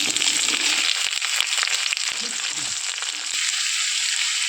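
Onion dropped into hot oil with whole bay leaves, cardamom, cloves and cinnamon, a loud close hiss and crackle that settles into steady frying with a few stirring clicks.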